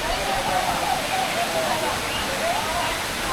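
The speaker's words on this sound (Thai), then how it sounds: "และนี่ก็คือน้ำตก" A waterfall at Furong, China, roars in a steady, dense rush of falling water, constant and fairly loud with no break.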